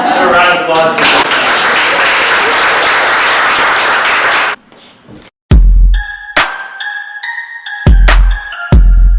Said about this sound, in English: So, a round of applause for this.